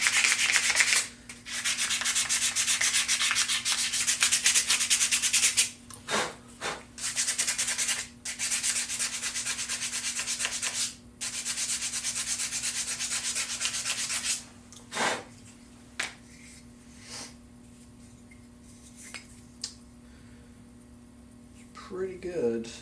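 Steady, scratchy rubbing of sandpaper on a wooden hand plane handle in long continuous strokes, close by, rounding its edges, pausing briefly several times before lighter intermittent scrapes.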